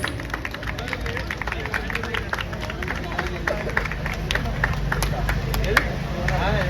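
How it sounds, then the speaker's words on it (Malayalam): Crowd applause at a fan event for Anumol, a steady patter of many hands clapping with general hubbub, while a voice speaks over the clapping. "നല്ലൊരു കയ്യടി കൊടുക്കോ പ്ലീസ്."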